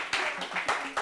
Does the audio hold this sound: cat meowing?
no